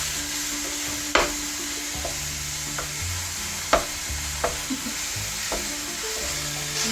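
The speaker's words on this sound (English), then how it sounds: "When you add anything to a skillet, you want it to sizzle when it first comes in." Food sizzles steadily in a hot skillet for a Philly cheesesteak casserole, a continuous bright frying hiss with a few sharp clacks of a utensil stirring and breaking up the contents, close and alone.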